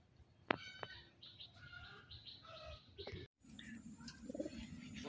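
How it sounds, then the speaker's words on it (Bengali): Raj Golla pigeons, a red-and-white breeding pair, give soft coos and chirps close by, short calls scattered over a quiet background with a brief clatter and a moment of silence partway through. "এক জোড়া লাল সাদা গোল্লা কবুতর"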